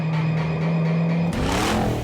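Methanol-injected 1000 hp custom car engine at wide-open throttle, a loud steady drone with a pitch shift that then surges into a dense, rising roar near the microphone.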